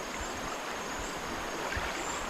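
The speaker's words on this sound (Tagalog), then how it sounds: "Maaga po tayo sa ilog." Early-morning river water flows in a steady, even rush, with no other sounds breaking through the continuous wash.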